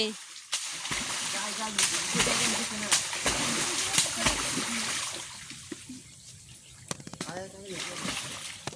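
Water splashing and sloshing in a village pond as someone dives and feels around for fish, with steady churning and sharp splashes throughout while people talk nearby.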